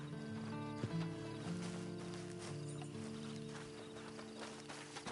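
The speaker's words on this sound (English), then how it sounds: "And you better get on this horse." A video game horse snorts and clip-clops close by over a steady game ambience with faint music tones, no talk over it.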